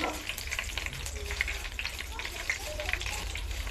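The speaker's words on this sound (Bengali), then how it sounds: "কারি পাতাগুলো মচমচ করে ভেজে নিব।" Curry leaves fry crisp in hot oil with a constant crackling sizzle and scattered sharper pops, steady from start to finish.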